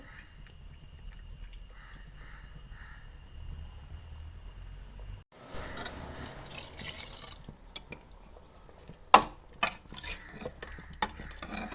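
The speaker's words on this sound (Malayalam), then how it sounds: "ഈ പുളി നമ്മൾ കുറച്ച് പുളി വെള്ളത്തിലിട്ടിരുന്നു ഇത് നമ്മൾ ഇതിലേക്ക് ഒഴിച്ച് കൊടുക്കുന്നുണ്ട്" Tamarind water is poured into a pot of sambar, a brief splash and stirring swish followed by light drips and clinks in a quiet kitchen.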